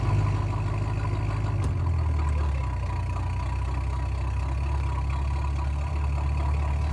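A custom Monster Garage build's engine idles steadily and close by, a continuous low rumble with a faint shift in tone partway through, no talk over it.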